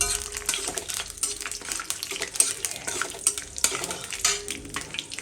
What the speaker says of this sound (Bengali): তো এটাকে এইভাবে ফ্রাই করে নেবেন।